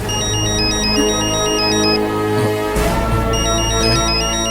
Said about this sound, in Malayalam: phone ring ചെയ്യുന്നല്ലോ